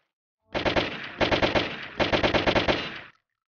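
World War II guns firing in a Roblox game, three rapid automatic bursts back to back, each a quick run of sharp shots, loud and close, then silence; no talking.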